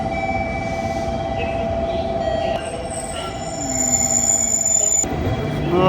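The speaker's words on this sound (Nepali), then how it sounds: "सबजना ट्रेन पुगेको छ" At a station platform, a train rolls in with a low rumble and a sustained metallic squeal, while electronic chimes and a high whine sound over it, growing louder toward the end.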